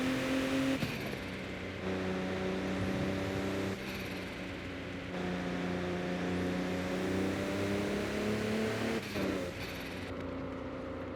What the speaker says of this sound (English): you can hit a turbo spool